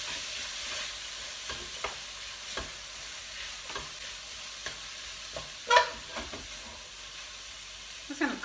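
Tomato fries with spices in a pan, a soft continuous sizzle with occasional light stirring taps and one louder scrape, close and fairly quiet, no talk.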